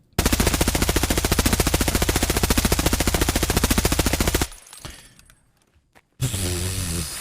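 An HK rifle fired in Escape from Tarkov, a long uncontrolled full-auto burst of loud, rapid, evenly spaced shots, then a ringing decay and brief quiet before another loud burst starts near the end.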